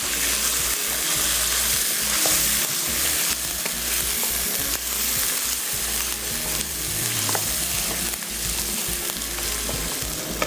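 Boiled meat being fried with masala in a pot for lentil-based cooking, giving a loud, steady sizzle with frequent stirring scrapes and clatters throughout, no talking.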